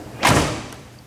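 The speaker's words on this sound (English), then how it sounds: "Both doors open and close with ease." A car door on a 1979 Pontiac Trans Am closes with one solid, fairly close thud, and a faint rattle trails off after it.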